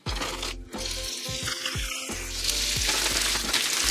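Flour-coated beef chunks browning in a hot pan for Guinness stew give a loud, steady sizzle, with a few sharp clicks and thumps as pieces go in and are shifted around.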